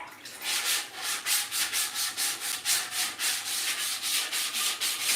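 Fine-grit sandpaper, around 1,000 to 1,200 grit, rubbed back and forth over a surface in steady, even strokes, about four per second, close and loud with no voices.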